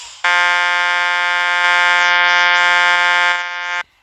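A bus horn in Public Transport Simulator blares as one long, steady, buzzy honk lasting several seconds, loud and close, with no talk over it.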